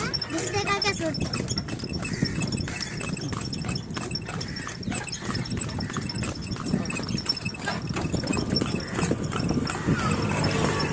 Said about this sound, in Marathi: चला आता आपण टांग्याच्या सफरीमध्ये जाऊया